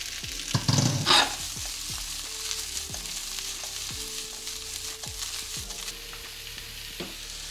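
Finely chopped broccoli hits a hot pan with a sharp burst of sizzling, then keeps up a softer steady fry. Utensil scrapes and stirs recur at a regular pace, and no one speaks.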